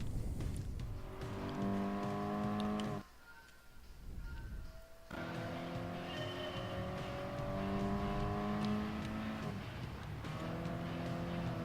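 A Toyota GT86 races in Gran Turismo Sport, its engine revving in a steady, loud drone that climbs through the gears, drops off for a moment on a shift or lift, then surges again.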